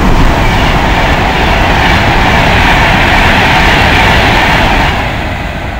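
A Euston to Manchester express train roars through Nuneaton station without stopping, loud and close, a dense rumble with rail clatter that holds steady and then begins to fade at the end.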